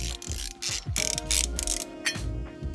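Mechanical ratcheting and metallic clicks from a hand tool loosening small bolts on a Yamaha Tenere 700 motorcycle part, several bursts of short clicks in an irregular rhythm, close and fairly loud, with no talk.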